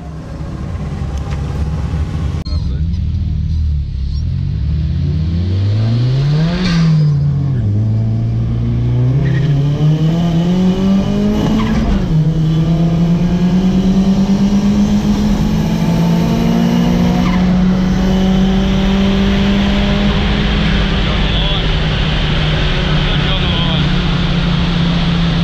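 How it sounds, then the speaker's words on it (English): A Datsun 1600 fitted with an FJ20 engine laps a race circuit, engine note rising and falling through gears with loud revving and tire squeal, continuous and close throughout. "Dragged a few laps in Nigel's absolutely stunning FJ 20 powered 1600."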